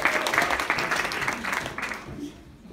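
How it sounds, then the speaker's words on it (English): An audience at a campus gathering applauds readers with steady clapping that fades toward the end, while a voice talks over it. "You guys keep cheering for them."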